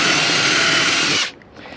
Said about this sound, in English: I got to drill all the way through the first piece and part way into the second piece